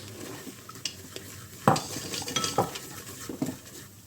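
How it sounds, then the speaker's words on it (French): A silicone whisk works flour into melted butter for a roux inside a Cookeo cooker pot, making soft continuous swishing and scraping with gentle sizzling, close and with no voices. "J'utilise un fouet en silicone pour éviter de rayer la cuve."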